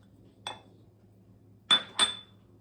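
Spoon mixing mug brownie batter in a mug, heard as three bright clinks and knocks against the mug, one alone and then two in quick succession, over a low steady background hum.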